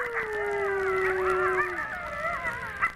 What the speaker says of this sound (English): It really doesn't matter where you hear a wolf howl, it can send shivers down your spine.